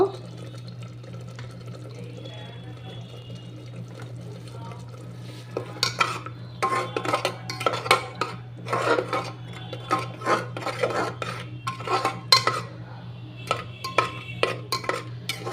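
Soybeans and spinach are stirred in a pressure cooker, giving a run of scraping, clattering strokes that start about midway and repeat in quick bursts over a steady low hum.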